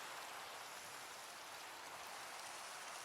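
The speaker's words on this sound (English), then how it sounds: "Can't work in the rain, right?" Continuous rain pours in the Crafting With Rocks video game, a dense, even hiss of drops on surfaces filling the short stretch with no voices.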